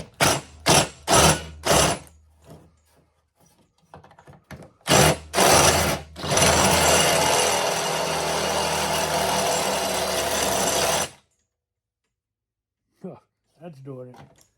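A few short bursts of a close power drill drilling out a Volkswagen Beetle door hinge rivet, then a sustained high-pitched whir for several seconds before it stops.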